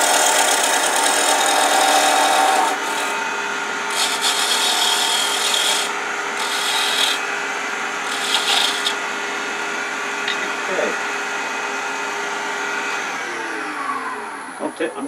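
A lathe spins a wooden chess bishop while a beading parting tool cuts it, a steady hissing scrape with brief pauses and changes in pitch, plus a voice speaking.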